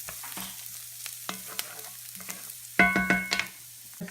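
Eggplant bharta with garlic sizzling and frying in a pan, with a soft steady sizzle broken by scattered clicks and a brief louder burst of stirring and scraping near the end, close up and with no talking.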